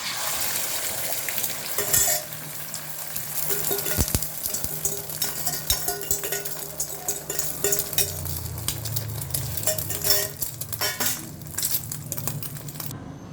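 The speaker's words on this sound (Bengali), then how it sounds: "এখন তেলটা আমার গরম হয়ে গেছে, ডিমটা আমি দিয়ে দেবো তেলের মধ্যে।" Beaten eggs seasoned with salt fry in hot oil in a pan for an omelette, giving a steady close sizzle with scraping stirs and occasional clinks throughout, no one speaking.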